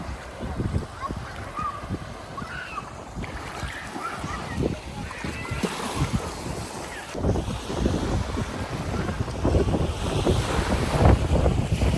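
Sea waves wash and surge at a beach resort, heard through heavy gusting wind buffeting the microphone, a rough continuous roar with faint voices in the background.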